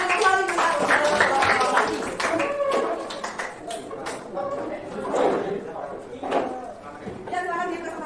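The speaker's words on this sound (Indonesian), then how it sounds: "Oke, kita beri tepuk tangan kembali." Scattered hand clapping in a 9th-grade classroom, uneven taps rising and thinning over about eight seconds, mixed with children's chatter and voices throughout.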